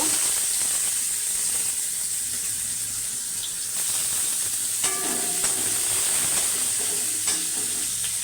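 Cumin seeds, dried red chilli, bay leaf and chopped onion sizzling in hot oil, a loud steady hiss close by, with a few clinks of a stirring utensil against the pan.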